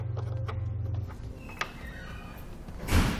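A small included tool tightens a Rhino-Rack crossbar awning bracket on a 2013 Jeep Wrangler, heard as a low mechanical whir and faint creaks followed by a short scrape near the end, quiet and close.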